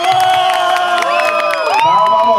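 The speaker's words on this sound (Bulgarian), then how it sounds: "аплодисменти за бабата." Wedding guests at a Bulgarian celebration cheer and whoop for the bride's grandmother, a loud lively crowd of overlapping shouts and voices with scattered clapping, close and continuous throughout.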